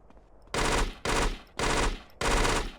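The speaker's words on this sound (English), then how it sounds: "See how I can't hit anything after I start bursting? Or after I start firing full auto for a bit?" A submachine gun in GTA San Andreas fires full-auto: four loud, close bursts of rapid gunfire, each lasting about half a second, separated by short gaps.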